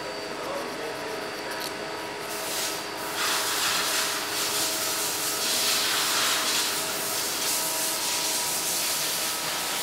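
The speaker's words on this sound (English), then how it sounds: "Now what we do is sandpaper, where you get away the sharp edges." Sandpaper rubbing along the sharp edges of a Brauner microphone body, a steady, close, continuous scratchy hiss that swells louder partway through, with no talking.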